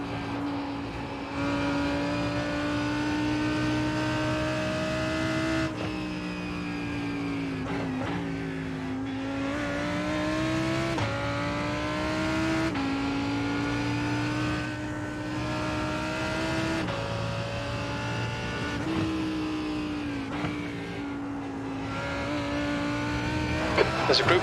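Race cars lapping a track in a racing sim game, engines droning under steady load with repeated rising pitch sweeps and gear shifts as cars accelerate and pass.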